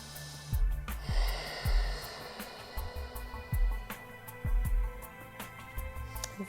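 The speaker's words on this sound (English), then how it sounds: "Staying with those strong inhales and exhales through your nose." Strong, rhythmic breaths in and out through the nose during a gentle yoga session for back pain: forceful, hissing nasal inhales and exhales repeating roughly every second, close and loud, over faint background music.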